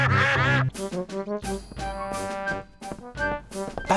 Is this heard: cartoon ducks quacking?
yes